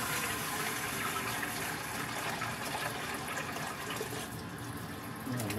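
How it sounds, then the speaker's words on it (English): Tap water runs steadily into a cooking pan for corn, a continuous close gushing and filling sound with no speech. "let's put some water in there."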